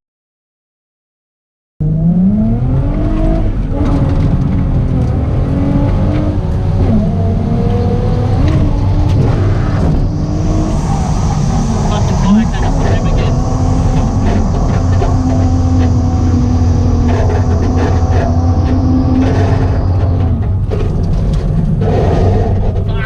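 A car under tow back into the pits after running walls, its engine droning loud and steady at close range with rising and falling tones and the occasional revving swell, no voices over it.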